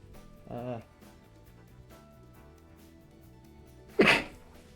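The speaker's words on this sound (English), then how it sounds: "I gotta sneeze." A person sneezes once, a sharp close burst near the end, while a soft chill beat plays underneath; a brief voice sounds earlier.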